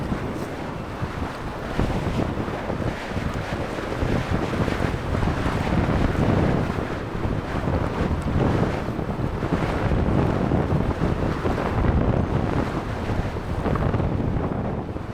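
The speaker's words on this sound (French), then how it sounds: "Il y a du vent par contre" Strong wind gusting at sea during a solo paddle across a small strait in Lapland, a steady loud roar of wind buffeting the microphone with water wash beneath, continuous throughout with no talk.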